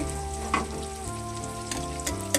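Onions sizzle steadily in a hot pan for a chicken fry, with a few sharp stirring clinks and scrapes over the continuous crackle.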